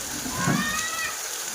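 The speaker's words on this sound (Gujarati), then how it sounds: "મસ્ત વરસાદ ચાલુ થઈ ગયો" Steady rain patters down in a constant hiss, with a soft low rumble briefly rising beneath it.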